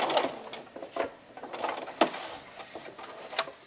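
A sewing machine stitches into the corner of a honeybee-themed jelly roll mug rug quilt, running in short, uneven bursts with light clicking pulses, close and fairly quiet.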